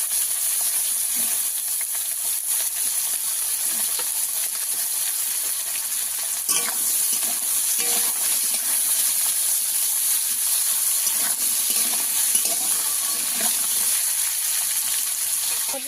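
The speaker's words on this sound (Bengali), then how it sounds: "আগে থেকে আলুটা ভেজে নিলে ভালো হয়।" Potatoes frying steadily in hot oil in a pan for a rohu fish recipe, a loud, even, continuous sizzle with occasional stirring scrapes and clicks, close and without talk.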